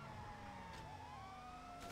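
A police car siren in Grand Theft Auto V wails steadily over continuous engine rumble, rising and falling in pitch at moderate distance with no talking.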